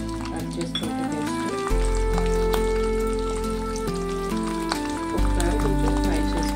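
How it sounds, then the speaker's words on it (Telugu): Ginger and garlic pieces frying in a pan give a continuous soft sizzle with occasional light clinks, heard beneath steady background music throughout. "ఒకసారి కొంచెం ఫ్రై చేసుకోవాలి. కొంచెం ఫ్రై అయితే సరిపోతుంది."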